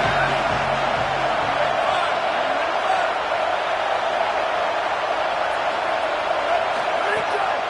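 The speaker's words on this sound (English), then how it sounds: "Decibels rising as the crowd gets behind this defense on 3rd down." A dense, steady roar of a large stadium crowd on a defensive third down in a college football video game fills the whole stretch without letting up.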